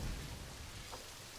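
Rain pouring steadily with low thunder rumbling in Planet Zoo, a zoo-building video game, a dense continuous wash of rainfall at even level with a deep rolling rumble strongest at the start.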